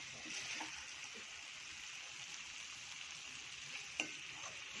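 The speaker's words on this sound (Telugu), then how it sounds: "టమాటా కూడా ఈ ఆయిల్లో బాగా వేగాలి" Chopped tomatoes fry in hot oil in a pan for batani chaat, a quiet steady sizzle with a brief stir or clink partway through.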